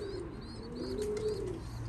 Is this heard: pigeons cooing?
yes